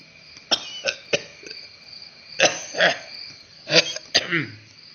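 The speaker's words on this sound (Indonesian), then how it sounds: "Kadenge aki-aki batuk." An old man coughs and clears his throat in a series of sharp, rough bursts, some single and some in quick pairs, spaced irregularly over a few seconds with quiet in between.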